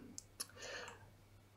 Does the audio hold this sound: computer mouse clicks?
yes